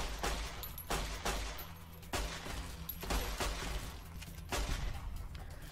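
Gunfire in modded Fallout New Vegas cracks out in a rapid volley of loud shots at irregular intervals, with a steady game ambience beneath and no talk.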